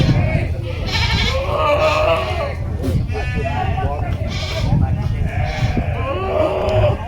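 Peranakan Etawa goats bleat repeatedly at a busy livestock market, several calls rising over dense crowd chatter and a steady background of voices.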